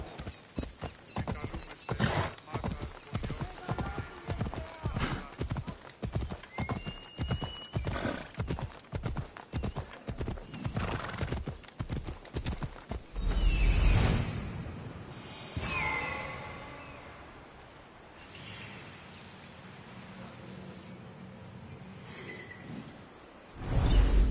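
A horse gallops in Assassin's Creed Odyssey, rapid rhythmic hoofbeats for about thirteen seconds, then whooshing movement, a snort and softer sounds as it slows, with a final burst of noise at the end.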